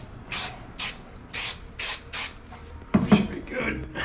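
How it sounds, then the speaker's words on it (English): Five short hissing bursts from an aerosol spray can, evenly spaced, sprayed while working on a fishing boat, followed by some rustling handling noise. "Spray this side as well"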